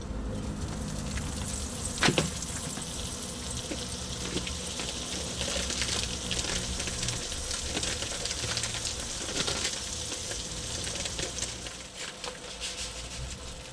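Tuna steaks sear in butter in a frying pan, a steady close sizzle with crackling spatters throughout and a sharper pop near the start, no voices over it.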